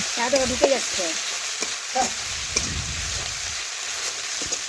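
Ginger, cumin and garlic fry with onions in a pan over a clay stove, a steady close sizzle with stirring scrapes and taps, and a brief voice near the start.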